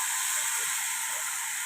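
Ground spicy red chutney of dried red chillies, garlic, onion and tomato hitting hot oil tempered with asafoetida, giving a steady, loud, continuous hiss and sizzle throughout with no talking.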